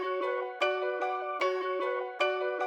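Chopped piano sample looping in a beat, sustained chords struck again roughly every 0.8 seconds, each new hit bright and full over a ringing, rich harmonic tail, alone with no voices.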